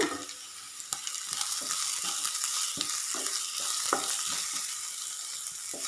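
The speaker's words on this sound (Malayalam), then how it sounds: "പച്ചമുളക് ഒന്ന് വാടി വരാൻ വേണ്ടി ഒന്ന് വഴറ്റി കൊടുക്കാം." Four green chilies sauté with onions and chili powder in a pan for masoor dal curry. A steady close sizzle runs under regular spatula taps and scrapes as the mixture is stirred, with no voice.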